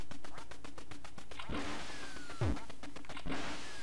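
Electronic quacks from the Duck Hunt video game sound in a rapid repeated pattern, broken by a few sharp downward-sweeping game effects.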